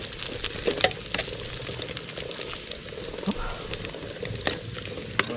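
Garlic frying in hot oil in a pan, a loud, dense, continuous sizzle with scattered pops and crackles, close up, running steadily with no talk over it.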